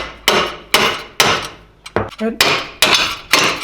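A hammer strikes a pickle fork wedged between a Subaru Forester's control arm and knuckle to separate the ball joint, giving about seven sharp, close metallic blows in a quick, slightly uneven rhythm.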